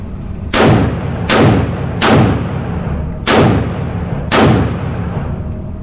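Five loud rifle shots at an outdoor range, evenly spaced about a second apart, each a sharp close crack with a long decaying echo and no talking.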